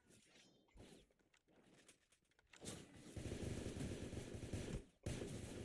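Video game gunfire rattles in bursts, with scattered shots early on, then a loud, sustained stretch of rapid automatic fire broken by a brief pause.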